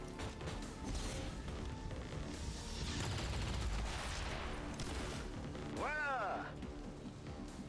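A free shot is fired in the XCOM 2 video game, a loud, crashing blast that swells and fades amid game effects while someone talks.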